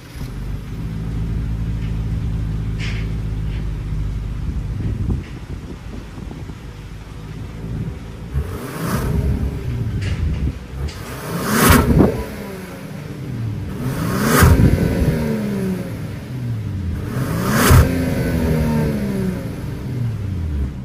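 A 2025 Genesis GV70 Sport Advanced with a 3.5-liter twin-turbo V6 and dual exhaust rumbles at idle after starting, then gets several sharp throttle blips that rise and fall, loud and close.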